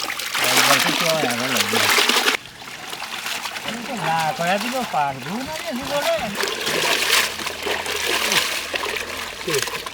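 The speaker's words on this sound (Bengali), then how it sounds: "আমার মুরগিটা সুন্দর করে ধোয়া হয়ে গেছে" Water splashes and trickles over chicken being rinsed, with loud voices talking over it most of the time.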